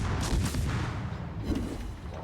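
Video game gunfire cracks and booms as a shot is fired at an enemy, giving a loud, dense burst of gunfire that carries on through the moment.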